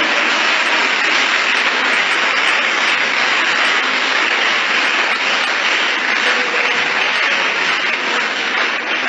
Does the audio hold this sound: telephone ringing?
no